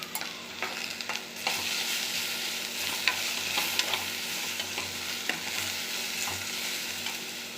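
Ivy gourd sautéing in a pan with rock salt and turmeric, a steady close sizzle broken by repeated scraping stirs throughout, no voices.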